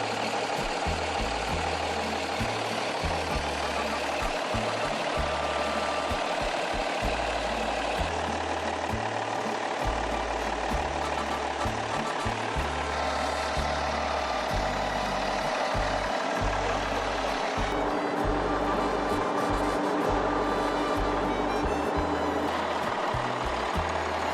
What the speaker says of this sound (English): Its mechanical fuel pump pounds with precision, delivering an aggressive and relentless RPM band.